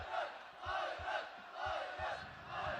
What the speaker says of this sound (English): the crowd vocalizing their support for Kairat Akhmetov